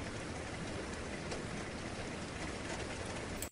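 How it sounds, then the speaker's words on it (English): Steady light rain patters evenly, a soft continuous hiss of drops with no other sounds, ending abruptly. "I found this ambient rain light."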